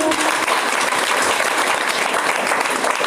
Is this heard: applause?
yes